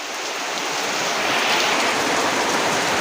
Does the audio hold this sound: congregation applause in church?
no